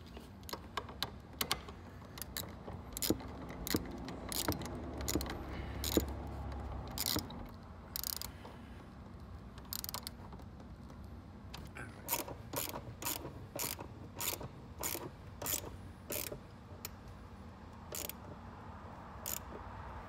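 Rapid, close metallic clicking of a ratchet loosening 13mm seat bolts on a 2006 Ford Mustang, running in steady bursts with short pauses between sets of strokes.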